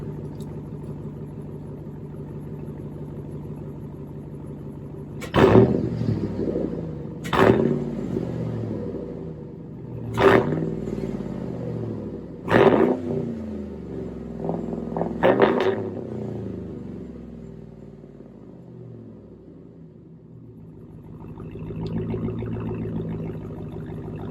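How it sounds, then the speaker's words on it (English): A Chevrolet Silverado pickup's 5.3 V8 engine revs in five sharp bursts over a steady low idle rumble, each surge rising and falling quickly, then settles back to idling. "now that it's idling, I'll give it some revs."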